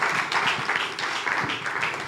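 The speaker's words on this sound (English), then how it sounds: "Round of applause as he goes to the podium." Applause at a HealthTech investor summit as a Tricog Health executive walks to the podium, a brief continuous patter of many hands in a hall, fairly loud and unbroken.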